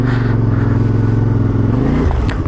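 A CF Moto 450 MT motorcycle rides slowly in winter on its original tyres, its engine a loud, close, steady low drone that shifts pitch and roughens near the end as throttle changes, with no talking.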